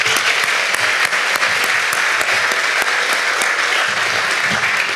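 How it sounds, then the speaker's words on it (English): Steady, full applause from an audience at a county schools report event, continuous clapping at a strong, even level with no talk over it. "So let's give them a round of applause"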